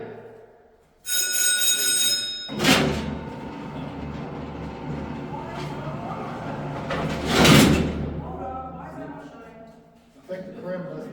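Heavy steel cell door at the West Virginia State Penitentiary, a prison, sliding and clanging open with a loud metallic rumble and two sharp bangs, while people talk nearby.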